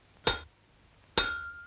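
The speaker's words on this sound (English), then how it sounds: "what could get muddled with hammering a nail into a wall?" Two sharp, ringing metallic strikes about a second apart, like a hammer hitting a nail in a wall, each with a bright clink that lingers briefly, the second trailing a sustained tone.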